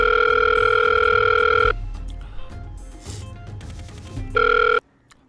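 A loud, steady telephone tone sounds for over a second, cuts to quiet line noise and faint clicks, then briefly returns before stopping abruptly.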